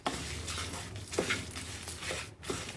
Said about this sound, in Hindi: इसको आपने हिलाते रहना है ताकि ये नीचे ना लग जाए और ज़्यादा जल ना जाए